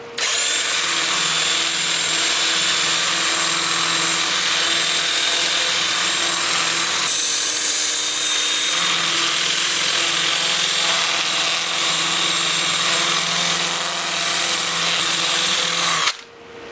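Sandoflex flap sander working the irregular unturned surfaces of a very hard turned wood piece, a loud continuous whirring scrub with a brief dip in the middle before it cuts off abruptly.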